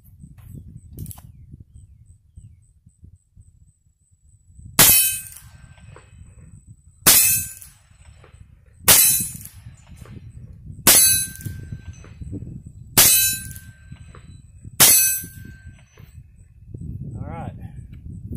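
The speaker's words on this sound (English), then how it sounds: "That was 6 more rounds through the Heritage" Six loud, sharp revolver shots from a Heritage Rough Rider, spaced about two seconds apart, each ending in a bright metallic ring from steel targets, with quiet outdoor background between the shots.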